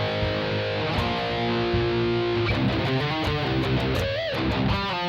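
Distorted electric guitar plays a lick phrase, a dense, continuous riff of sustained power-chord tones and quick note changes with a bending figure near the end, loud and alone.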